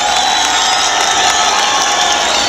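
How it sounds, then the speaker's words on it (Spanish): At a university rodeo roping contest in a bullring, a big crowd keeps up a loud, continuous mix of cheering, shouting and clapping, a dense wall of voices filling the whole stretch. "el puro aplauso."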